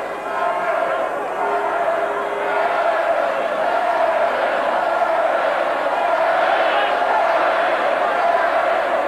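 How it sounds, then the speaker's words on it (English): A large crowd roars steadily at a rugby match held at a racecourse, a sustained loud wash of vocal support with chanting rising and falling, heard from within the stands. "Great vocal support from the crowd here at the racecourse"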